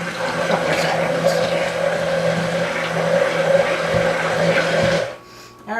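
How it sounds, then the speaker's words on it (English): An electric mixer whirs steadily, whisking eggs for lemon squares, a close, even motor drone for about five seconds before it switches off. "just whisk until it breaks the egg"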